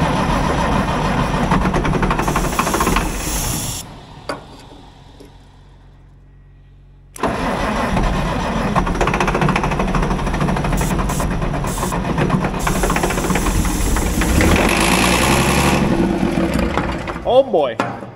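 The engine of an International wheel loader left sitting for eight years rumbles loudly, drops out for a few seconds, then cranks back up and runs roughly. Voices talk over the machine noise.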